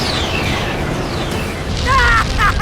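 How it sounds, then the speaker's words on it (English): Frieza unleashes his planet-destroying Supernova attack in the Dragon Ball Gekishin Squadra video game, a sustained roaring boom with sweeping whooshes, swelling louder toward the end with bright rising tones and no speech over it. "His ultimate attack is the planet destroying supernova."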